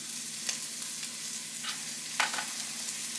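Meat fat renders in a pan seasoned with onion powder, smoked paprika and fresh minced garlic, giving a steady close crackling sizzle with a few sharper pops and spits, and no talking.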